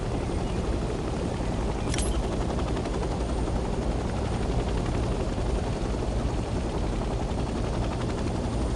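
A helicopter flies in the video game Hell Let Loose Vietnam with a constant, loud rotor-and-engine roar and fast blade chop, plus one brief sharp click early on.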